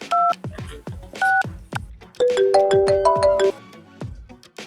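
A telephone call is dialled: a few short keypad beeps come first, then a sustained, multi-tone ringing pattern follows, loud and close, with faint background noise throughout.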